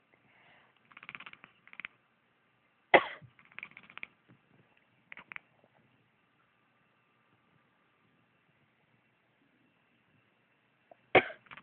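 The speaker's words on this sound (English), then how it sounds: "Apparently she hates it when I cough." A person coughing near a sleeping pet at night, a few short scattered coughs and throat noises separated by long quiet pauses, with one sharp louder cough and a final burst near the end.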